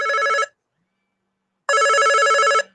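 A telephone ringing loudly and close: two electronic trilling bursts, one short and one about a second long, separated by a clear silent gap.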